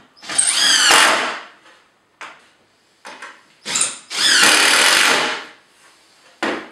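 A power drill drives screws into the wooden side pieces of a trestle, giving loud, close whirring bursts that rise and fall in pitch, separated by short quiet gaps.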